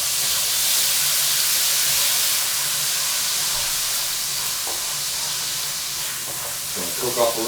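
A seafood pasta sauce sizzles in a hot pan with a steady, bright hiss that holds for several seconds, then a few quick clatters near the end.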